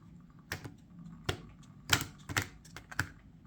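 A tarot card deck is riffled in a waterfall shuffle, giving a handful of quick, close papery clicks and flutters in short irregular bursts with no talking.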